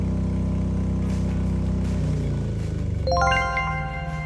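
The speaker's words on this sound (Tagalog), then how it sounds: "So ito na yung actual trigger time para sa pag-shut off ng ating generator." A generator's steady low engine drone winds down and shuts off as utility power returns via an automatic transfer switch, followed by a rising series of electronic beeping tones near the end.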